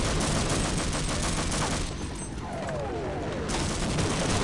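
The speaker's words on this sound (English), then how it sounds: "they are carpet bombing the area" Carpet bombing in the video game Half-Life, a dense, continuous roar of rapid explosions and rumbling gunfire-like blasts that stays loud throughout with only a brief dip midway.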